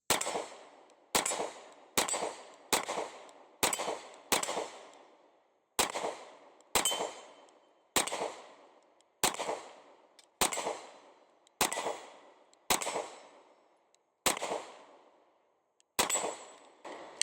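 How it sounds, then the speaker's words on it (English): Smith & Wesson Shield X pistol fired at targets 20 yards away, around sixteen sharp, loud single shots at an uneven pace, each cracking out and then ringing off briefly into quiet. "Let's go ahead and load up the 15-round mag now and shoot a little bit more"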